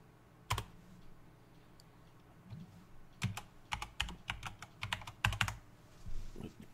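A password is typed on a computer keyboard in a quiet room: one isolated keystroke, then a few scattered presses, then a quick irregular burst of clicky keys, close and fairly soft.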